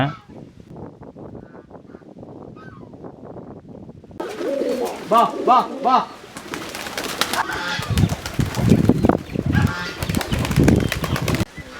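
A flock of about 500 pairs of pigeons held for sale coos and flaps. Soft cooing opens the clip, then louder bursts of wing beats and busy calling crowd in up close.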